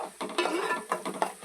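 A utensil stirs dried fish roe and drumstick curry in a pot, making several close scraping and clinking strokes in an uneven rhythm, fairly faint and with no speech.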